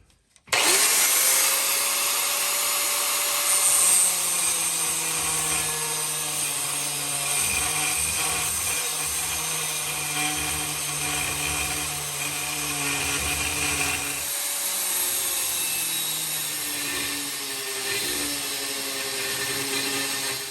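A power tool cuts lift blocks for the rear of a Ford F150, a loud, steady whining drone that holds for about twenty seconds with shifting pitch as the blade bites, close and without talk.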